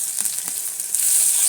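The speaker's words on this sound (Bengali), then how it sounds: "এখন আগে থেকে থেঁতো করে রাখা রসুন, সাথে মরিচ আর দুটো তেজপাতা দিয়ে দেবো বাগা।" Crushed garlic, chili and two bay leaves hit hot oil in a kadai as a tempering for khichuri, giving a loud, close, steady sizzle with a faint stir partway through and no talking.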